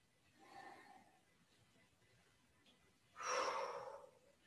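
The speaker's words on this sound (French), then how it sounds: "Inspire, expire." A slow qigong breath cycle: a soft inhale followed by a longer, stronger exhale, quiet and close with no talking over it.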